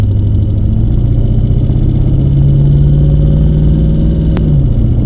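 Toyota Hilux with a V8 swap on its first drive, the engine droning loud and close as it revs up, holds, then eases off, a steady low rumble from inside the cab without speech.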